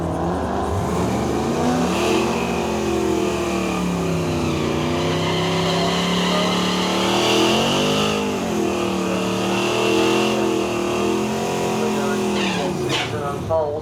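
A Chevrolet Camaro and a Ford Mustang GT drag race at Melbourne Raceway in York, their engines roaring loudly in rising and falling pitch sweeps, with a commentator talking over them.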